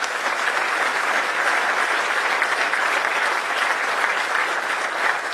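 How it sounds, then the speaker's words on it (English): Round of applause from an audience at a Blain's Farm and Fleet distribution center, a sustained, dense wash of many hands clapping at steady, fairly loud level with no speech over it. "Give yourselves a round of applause, folks."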